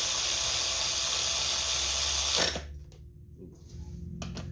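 A ratchet fitted with a 15/16 socket tightens the carburetor bolts on a Craftsman 5.5 hp pressure washer engine, giving a close, dense, continuous ratcheting rasp for about two and a half seconds before it stops abruptly and only quiet room tone remains.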